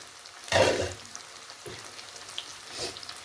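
Besan-battered fish frying in hot oil for Lahori-style fish fry, a close sizzling burst that swells then settles into a soft steady crackle with a few faint later flares.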